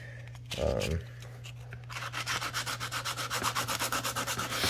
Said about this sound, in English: I just kind of start sanding from there.